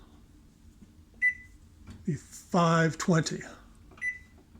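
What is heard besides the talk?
oven control panel button beeps while setting bake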